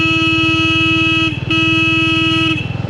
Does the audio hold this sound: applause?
no